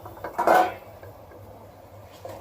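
Utensil scraping and clinking against a cooking pot of khichuri with rice and cubed potato, one short burst of stirring, then quieter kitchen rustle.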